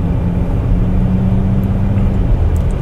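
A 2017 Audi A8 picks up speed on its own along a country road, heard from inside as a steady, loud low rumble of engine and tyre noise with no break.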